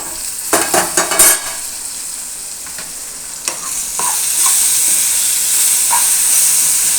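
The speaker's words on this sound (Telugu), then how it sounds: "ఇలా మళ్ళీ మధ్యలో కలుపుకుంటూ ఉంటే తర్వాత మనకు మాడదన్నమాట" Tomatoes softening in a pot for pulagam rice are stirred with a few scraping clinks at first, then a steady close sizzle and hiss of cooking continues with occasional light taps.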